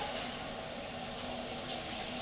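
Water runs steadily from a tap into a bath during a family's evening bathtime routine, a constant broad hiss with no pauses and no voices.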